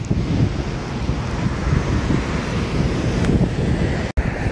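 Wind blowing outdoors on a hot, sunny day in Saudi Arabia, buffeting the microphone in a steady low rush with slight gusts and a brief dropout near the end.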